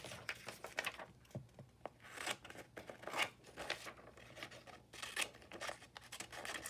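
Scissors snipping through paper in quick, irregular cuts, close up, with faint crinkling between the snips.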